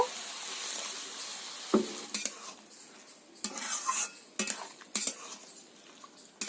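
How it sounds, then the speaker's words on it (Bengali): Water poured into cabbage cooking in a pan, giving a hiss that fades over the first seconds, then scattered spatula scrapes and clinks against the pan, close and fairly quiet, with no talking. "এবার এতে অল্প পরিমাণ জল দিয়ে দেব"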